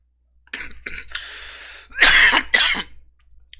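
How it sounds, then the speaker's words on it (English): One person coughs several times in harsh bursts, with a throat-clearing rasp and strained breaths between them. The sound is close, fairly loud and stands alone. "Sorry about this cough."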